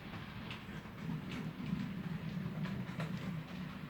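A small OO9 narrow-gauge model train clatters steadily along its track with faint rhythmic clicks, a continuous low rumble throughout and no voices.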